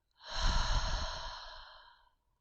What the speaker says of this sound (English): Take a big deep breath in and let it go.